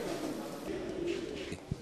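Jacobin fancy pigeons coo close by, a soft low rolling murmur with a single brief thump near the end.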